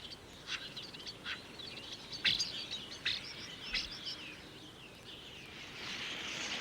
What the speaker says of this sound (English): starlings often nest in loose, noisy colonies